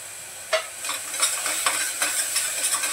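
Tomato cooking in a pan of moth bean curry, a soft steady sizzle with a run of light, repeated stirring taps and scrapes, close and alone.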